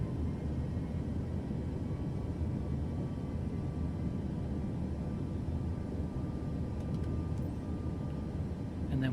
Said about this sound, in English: we reduce our flaps, we go full power, level the nose to pick up speed